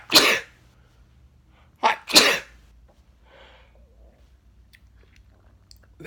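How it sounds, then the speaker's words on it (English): Sneezes from a person at home in the morning come as one sharp burst, then a pair close together a couple of seconds later, loud and near against a quiet background, followed by faint breathy rustles. "There's that moment where I am sneezing"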